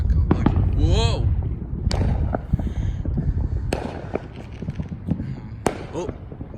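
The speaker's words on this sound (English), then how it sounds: "there could be another loud bang coming" Fireworks bangs at a house during a Fourth of July celebration, several sharp pops and booms scattered over a steady low rumble, with a rising whistle early on; a person talks excitedly throughout.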